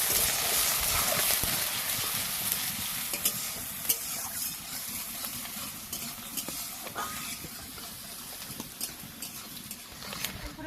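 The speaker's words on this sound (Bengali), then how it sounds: "পেঁয়াজগুলো একটু লাল লাল করে ভেজে নেবো।" Onions fry in a pan until reddish, with a steady, crackling sizzle and continuous stirring scrapes running throughout, close and unbroken.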